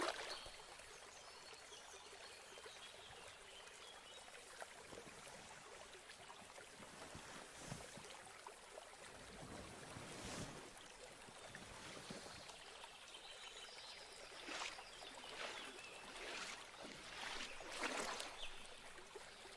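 Water sloshing and trickling gently in a bath, a continuous soft splashing that swells in places, with no voices heard.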